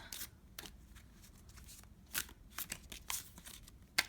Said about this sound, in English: These cards are really stiff, so they're kind of harder to shuffle.